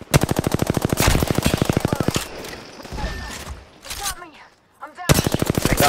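Rapid automatic gunfire in the Apex Legends battle royale game, loud and close, in long bursts with a pause of scattered effects and a quiet gap before firing resumes; a voice is briefly heard.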